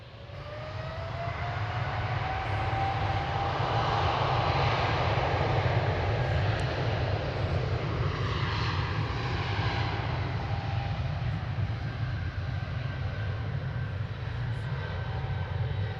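An American Airlines heavy jet takes off from runway 36 right at Dallas Fort Worth Airport, a loud, sustained engine roar with a rising whine that fills the whole stretch without letting up.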